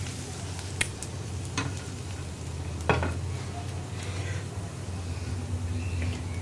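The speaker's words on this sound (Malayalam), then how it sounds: "ഇനി ഇതൊന്ന് ഇളക്കി മിക്സ് ചെയ്യുക." Fried tempering being stirred into a banana stem and green gram curry, with a soft steady sizzle and a few sharp spoon clinks and scrapes against the pot, close up, with no talking.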